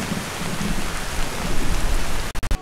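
Steady heavy rain pours and patters on surfaces with a dull thunder-like rumble underneath, cut off abruptly by a few choppy gaps just before the end.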